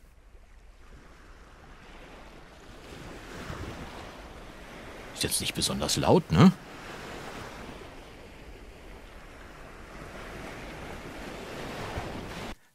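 Soft, steady recorded ocean surf with a broad rushing wash that swells and fades, interrupted midway by a few loud bumps and clatters, with a voice speaking briefly in German.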